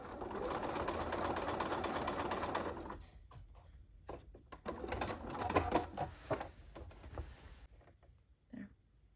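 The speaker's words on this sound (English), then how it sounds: "And then I'm sewing right to this point right here." Sewing machine stitching binding onto a quilt, a steady run for about three seconds followed by several short stop-start bursts of stitching, fairly quiet.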